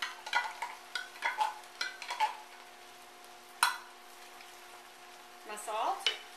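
Ground beef, onions and garlic for Greek pastitsio are stirred in a sizzling pan, with a run of quiet scraping spoon strokes, a sharp clank of utensil on the pan, then a soft sizzle.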